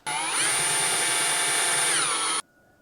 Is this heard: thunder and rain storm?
no